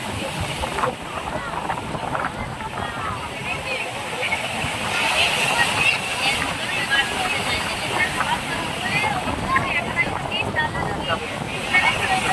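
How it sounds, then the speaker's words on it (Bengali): Large sea waves break and surge onto the beach at Old Digha, a steady roaring wash with wind buffeting the microphone throughout. "বিশাল ঢেউ আসছে আজকে"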